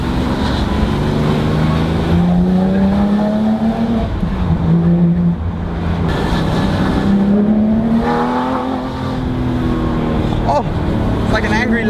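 A Porsche 911R engine revs and accelerates through several gear changes, its pitch rising and dropping in repeated sweeps, loud and close from inside the car, with people talking over it.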